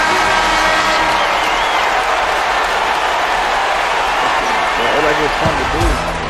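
The home crowd in the NBA 2K11 basketball game sends up a dense, loud roar of cheering and applause that holds steady throughout. Basketball bounces and squeaks sound near the end.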